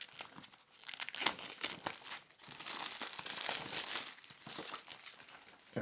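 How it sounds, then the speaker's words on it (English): Shrink wrap peeled off the box of an electric screwdriver set crinkles and crackles up close, in quiet bursts of plastic rustling and tearing with no talk. "I'm just going to use a penknife to very carefully puncture the shrink wrapper, and of course peeling it off."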